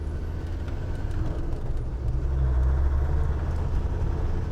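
A 1998 Land Rover Defender 110 Td5 diesel with its muffler deleted pulls away in first gear, the engine's low rumble loud and close and building in strength partway through.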